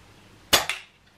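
A gun fires a single sharp shot at Easter eggs outdoors, a loud close crack followed by a quick second report and a short fading tail.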